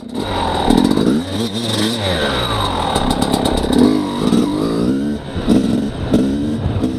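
An XTNG GEN3+ 38 engine on a bike during a riding test, revving up and down continuously with a loud, rough, buzzing drone and shifting pitch sweeps, heard close and alone.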